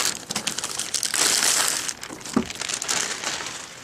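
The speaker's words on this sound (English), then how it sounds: "it's actually in a plastic, so let's pull it out of the plastic" Plastic wrapping crinkles and crackles loudly and continuously up close as a Sharkoon Xtatic SR surround headset box is pulled out of it.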